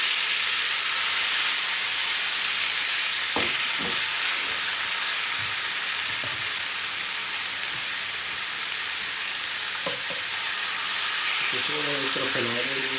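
Chicken frying in olive oil in a hot pan over a nearly high flame, giving a loud, steady, close hiss and sizzle that runs unbroken, with a few faint clinks and a voice speaking near the end.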